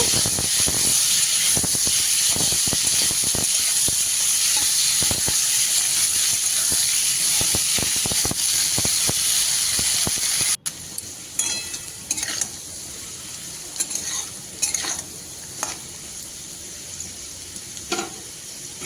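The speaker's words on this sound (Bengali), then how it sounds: "এবার আলুগুলো ভেজে নেব" Potato pieces frying in hot oil in a home kitchen, with a loud, steady sizzle and hiss for the first half, then quieter crackling broken by occasional stirring scrapes; no voices.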